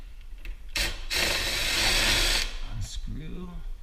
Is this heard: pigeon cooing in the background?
no